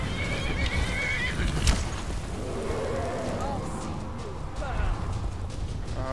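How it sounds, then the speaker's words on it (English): Horses neigh and whinny in the video game Skyrim over a steady bed of game noise and clattering, with a sharp burst near the middle and voices talking throughout. "Yeah, come on, horses."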